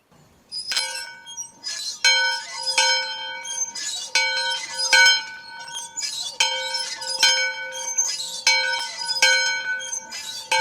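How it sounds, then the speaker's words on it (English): A bell on a farm rings in a steady series of clear, ringing strikes about a second apart, each note lingering briefly, loud and close with no talking. "Let me go ring the bell."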